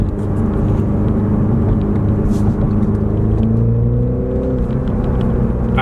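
BMW Z4 sDrive30i G29 roadster engine pulling in manual mode, a loud continuous rumble heard from inside the car that rises in pitch as it accelerates, with no talking over it.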